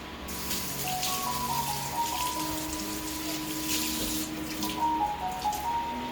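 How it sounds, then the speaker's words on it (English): Hands being rinsed under a running kitchen tap, water splashing steadily into the sink for several seconds at close range, with no talking. "Let me rinse my hands off."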